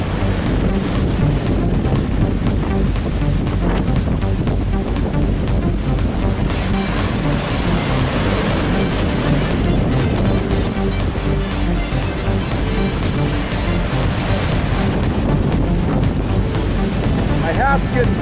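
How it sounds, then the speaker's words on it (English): Hurricane Maria's roaring wind batters the microphone over crashing ocean surf, a dense, loud, unbroken rush of gusts and waves lasting throughout. "Walking right into the wind here, and it's that is one angry Mother Ocean."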